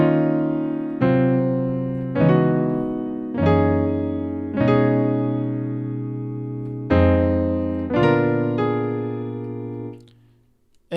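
Piano slowly playing section 3 of a song intro, a series of sustained chords struck one at a time, each ringing and decaying before the next, ending in silence.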